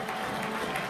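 A large crowd at a semifinal football match between Houston Dutch Lions and Chattanooga FC roars and applauds, a steady, dense wash of cheering and clapping filling the whole moment.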